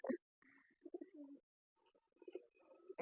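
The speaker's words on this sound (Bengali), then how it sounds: "গোল্লা কবুতর ভিতরে একটা আছে গুডু গুডু করতেছে" Golla breed pigeon cooing in a loft, soft low coos repeating in two bursts with short gaps, close by, with a few brief sharper sounds at the start and end.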